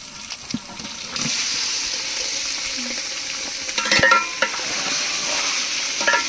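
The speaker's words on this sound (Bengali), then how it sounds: "এইবার নুন হলুদ মাখানো মাংসটা ঢেলে দেবো, তার মধ্যে বাকি মশলাগুলো দিয়ে জল দিয়ে ফুটিয়ে নেব।" Chicken marinated with salt and turmeric goes into a pan of fried onions for a home-made biryani, giving a steady close sizzle with occasional stirring scrapes and no speech.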